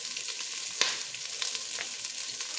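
Food sautéing in a pan gives a soft, even hiss of frying, fairly quiet and continuous, with a single sharper clatter near the start and no voices.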